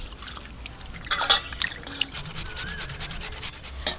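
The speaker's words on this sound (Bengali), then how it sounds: "জল দিয়ে ভালো করে ধুয়ে নেব" Raw chicken pieces are washed by hand in water for pakora, with wet rubbing, squelching and dripping sounds in short irregular bursts, close and fairly loud, with no talk.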